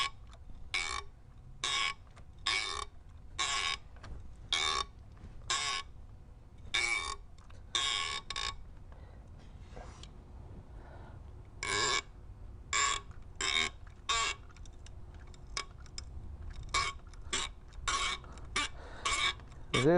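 A spark plug being loosened from a Ford 5.4 or 4.6 V8 with penetrating oil, giving repeated short, harsh squeaks and creaks in irregular bursts, close and fairly loud, separated by quiet gaps.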